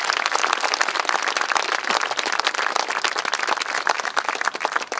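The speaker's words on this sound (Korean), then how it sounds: "빈센트 커튼이 참전용사께 다시 한번 감사의 큰 박수 부탁드립니다." Sustained crowd applause for a Korean War veteran at the Turn Toward Busan international UN veterans memorial ceremony in Busan, a dense, steady wash of many hands clapping at moderate loudness for the full five seconds.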